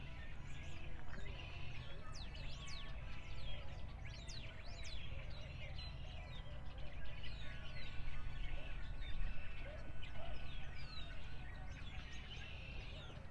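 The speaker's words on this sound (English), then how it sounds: "Y'all hear the birds chirping." Birds chirp outdoors on a sunny late-January day in the Midwest, with many small tweets and calls scattered over a constant low background hum, faint and distant throughout.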